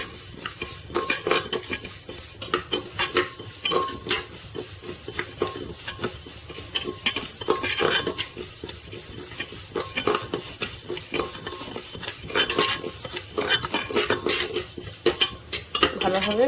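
Moong dal being dry-fried and stirred in a pan for a home-style dal, continuous scraping and clinking of a spatula against metal with a faint sizzle underneath, close and busy throughout, no talk.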